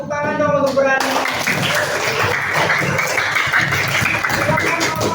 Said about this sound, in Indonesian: tepuk tangan dong untuk berani